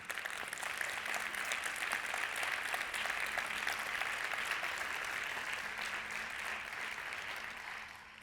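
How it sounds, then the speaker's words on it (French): A conference audience at a plenary session claps in sustained, even applause that holds for several seconds and then begins to fade, with no talking over it. "je vous demande de vous applaudir."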